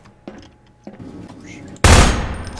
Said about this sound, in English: Stop shooting those boxes, man.